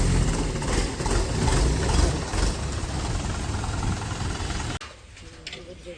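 A tractor engine drones low and steady while puddling a rain-soaked paddy field alongside a second tractor, loud and close with a voice talking over it, then the engine noise drops sharply near the end.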